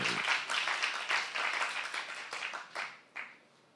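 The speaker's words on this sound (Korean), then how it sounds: "박수로 하나 둘 셋" Church congregation at a Saturday worship service clapping in unison for a few seconds, a broad dense patter that swells and fades with a couple of louder final claps, moderately distant.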